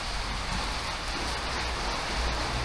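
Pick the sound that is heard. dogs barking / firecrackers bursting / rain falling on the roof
rain falling on the roof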